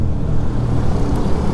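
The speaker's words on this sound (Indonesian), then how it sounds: "Kendaraan lumayan padat di sini ya" Dense road traffic in Badung, Bali rolls past in the afternoon, a loud, close rumble of cars and motorbikes with fluctuating engine noise and no speech.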